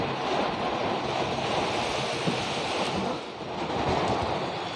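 Strong wind roaring steadily against a car on a road trip from Hyderabad to Kurnool, a dense, continuous rushing noise that dips briefly then returns full, with no speech.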